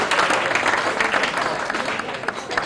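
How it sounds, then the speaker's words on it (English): Steady, dense audience applause following the introduction of the referee at a boxing event, loud and sustained for the whole stretch with a faint crowd murmur mixed in. "Please give a round of applause to our referee for tonight, Steve Sinclair, ladies and gentlemen."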